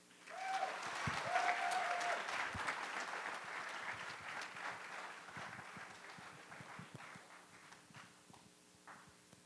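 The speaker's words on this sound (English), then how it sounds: "You may now give me the applause." Audience at a student orientation applauding, a dense burst of clapping that gradually thins and fades over several seconds.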